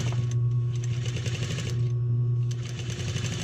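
A serger sewing machine stitches 1/8 inch elastic with a fast, steady mechanical whir, close and continuous with slight rhythmic variation.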